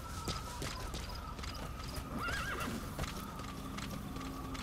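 A horse in the video game Metal Gear Solid V gives a short whinny midway through, over a steady run of hoof clip-clops and faint ambient game noise.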